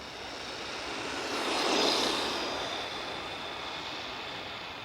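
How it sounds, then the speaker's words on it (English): A brushed ARRMA RC car at full throttle produces a steady, high-pitched motor whine that swells as it passes closest around the midpoint, then eases slightly while continuing. No voices are heard. "That's full throttle."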